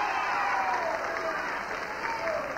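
Studio audience applause on a 1981 TV game show, a dense, continuous roar of clapping that stays loud and even throughout.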